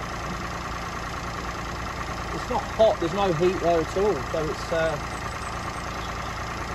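A small 1-litre Peugeot 107 engine idles steadily just after a jump start, a low, even hum running throughout while someone talks over it.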